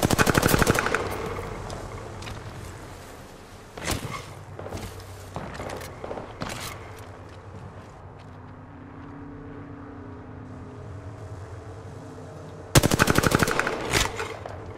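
Bursts of automatic gunfire from Apex Legends crack out in the opening seconds, followed by a few isolated shots and a quieter lull with distant movement, then a loud, sharp volley near the end.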